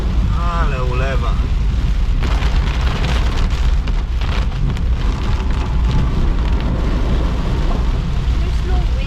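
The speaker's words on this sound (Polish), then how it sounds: "ale ulewa" A heavy tropical storm downpour hisses loudly and constantly, surging stronger after a short spoken line at the start, the rain pounding close and unbroken.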